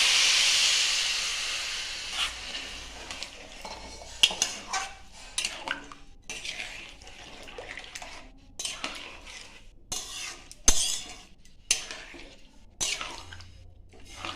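Spicy semolina cooking in water in a covered pot, with a soft steady hiss of steam and heating water, broken by intermittent clinks and scrapes of a spoon against cookware, heard close with no talking.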